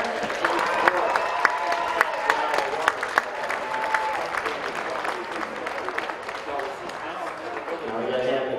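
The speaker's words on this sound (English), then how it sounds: "Another round of applause." Applause from the crowd at a polo club match in The Villages, scattered sharp claps over a murmuring gathering, with a voice talking over it at times.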